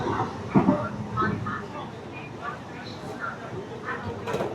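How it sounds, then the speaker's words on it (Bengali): A Bardhaman–Howrah chord line super local train runs at speed, its steady rumbling rattle filling the space throughout, with faint voices and clattering mixed in. "মারাত্মক স্পিডে ট্রেন চলছে মারাত্মক স্পিডে"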